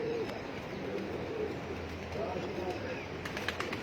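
Soft pigeon coos drift in faintly over a low background murmur with people talking nearby on a rooftop.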